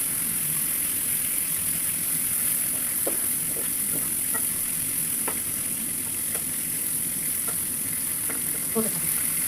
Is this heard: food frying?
yes